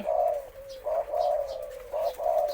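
A male spotted dove coos repeatedly in low, soft, hooting phrases with short gaps between them, fairly close and clear, with no talking.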